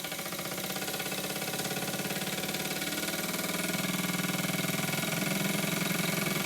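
A model steam engine driven by compressed air fed into its boiler at about 15 psi chuffs and hums steadily, a rapid mechanical pulsing that grows slightly louder and busier toward the end, with no voices.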